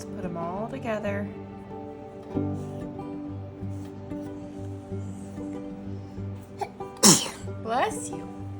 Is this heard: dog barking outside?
no